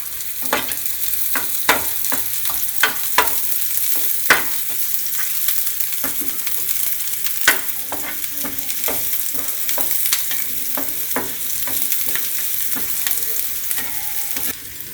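Chopped onions fry over low-medium heat in a pan, a steady bright sizzle running throughout, while a utensil scrapes and taps the pan in irregular stirring strokes up close.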